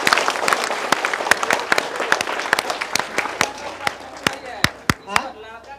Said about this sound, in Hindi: एक बार थोड़ा सा जोरदार ताली तुम सबके लिए।